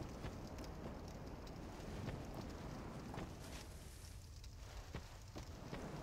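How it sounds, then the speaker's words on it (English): Wind blowing through a cave-like passage in the video game Dark Souls 2: a steady, faint, broadband rushing that continues throughout with small crackles, and no voices. "once you go through this log, you get a lot of wind sound coming out"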